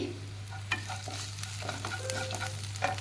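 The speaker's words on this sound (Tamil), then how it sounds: "வெங்காயம் நல்லா வதங்கிடுச்சு" Onions sautéing in a pan for ridge gourd chutney, a soft steady sizzle with scattered scraping stir strokes and spoon taps, close and moderately quiet, with no talking.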